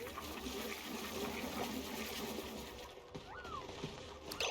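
Water flows steadily in the Oxygen Not Included video game, a continuous wash of liquid that runs evenly throughout with no talking.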